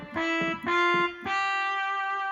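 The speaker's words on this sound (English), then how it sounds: "and it's the sound of a trumpet." A digital keyboard set to its trumpet voice, number 119, plays three sustained, bright brass-like notes in succession, clear and close with no talking.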